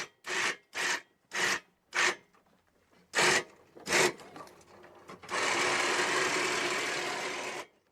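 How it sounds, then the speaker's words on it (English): An ATV winch pulls the vehicle up a slope. Several short whirring bursts come first, then a longer continuous run of the motor, all close and fairly loud with no talking. "Look at that winch, just pull that further up."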